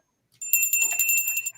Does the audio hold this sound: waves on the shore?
no